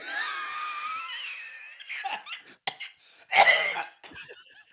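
Strained, wheezing coughs in short bursts, one loud harsh cough near the end, with a groaning voice beforehand.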